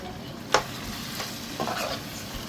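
Chicken curry with Jaffna curry powder and green chillies being stirred and fried in a pan, with a sharp scrape of the utensil, faint sizzling and a short stirring rustle.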